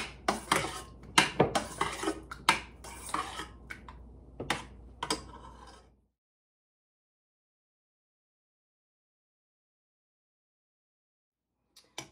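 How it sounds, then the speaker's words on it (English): Food stirred in a pan for sweet and sour pineapple kielbasa, with a close, busy run of spoon clinks and scrapes against metal for about six seconds, then near silence broken by a couple of faint knocks at the end. "Give those a stir."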